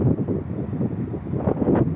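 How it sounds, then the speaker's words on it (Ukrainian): Cold winter wind gusting outdoors, low rumbling buffets against the microphone that swell and dip unevenly over two seconds, loud and close with no other sound. "Вітер дме холодний вітер"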